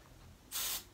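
A single short hiss of makeup setting spray bursts from a nozzle, close and fairly soft, after a moment of quiet room tone.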